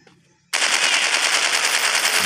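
Rapid automatic gunfire from a dinosaur hunting video game starts abruptly after a quiet moment and continues as a loud, dense, unbroken burst of shots.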